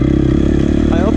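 A dirt bike engine drones close and loud in a rocky canyon, a steady throb lasting barely a second with a voice briefly over it.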